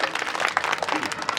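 An audience at a Hindi poetry recital claps, a brief burst of dense, uneven clapping from a crowd that sounds fairly close.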